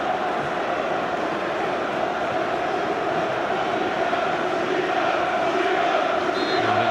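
A dense football crowd at a Carling Cup match between Wigan Athletic and Newcastle United roars and chants steadily for seven seconds, a broad, constant wall of voices with no pauses, without clear talk above it.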